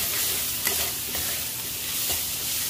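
Fenugreek leaves frying over medium heat, a close, steady sizzle with soft stirring scrapes of a spoon through the leaves in the pan.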